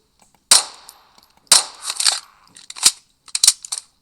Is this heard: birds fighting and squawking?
no